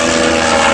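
Vintage propeller fighter lifting off at an Old Warden flying day, a loud, steady engine roar filling the brief moment with no voices.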